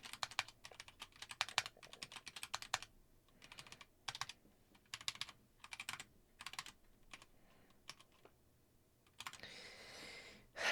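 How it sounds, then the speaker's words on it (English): Bursts of rapid clicking keystrokes on a computer keyboard, close and fairly quiet, coming in short uneven runs separated by brief pauses, with no talking. "I guess I just need to type."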